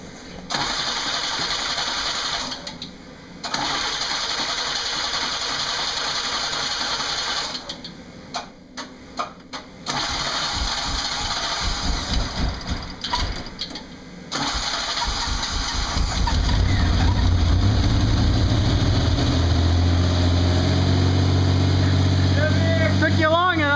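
A Camaro engine cranks in repeated bursts broken by pauses, then catches on a hard cold start and settles into a steady running rumble; people talk nearby during the cranking.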